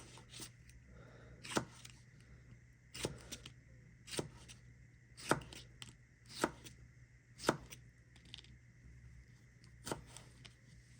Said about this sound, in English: cut the end off and then I'm just going to slice them in little rings